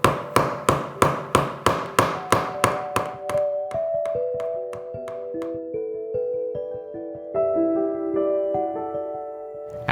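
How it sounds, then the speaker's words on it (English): A hammer taps about a dozen times in quick, even succession on a contact-cemented leather knife sheath. Bright, close strikes give way to softer, slower ringing taps that fade into lingering tones. "I find tapping on it with a hammer really helps seat the 2 sides and really make them stick well together."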